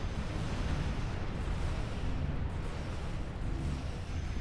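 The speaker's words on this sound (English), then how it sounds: "Does this, ejects a warp core. Right there, and boom!" A warp core ejected from a starship in Star Trek Online explodes, a dense rumbling roar of low booming noise sustained throughout with no voices.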